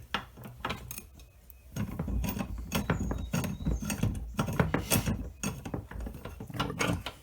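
Bolts are loosened on a clay extruder with a wrench, producing a series of close metallic clicks and ratcheting scrapes in an uneven rhythm, with no talking.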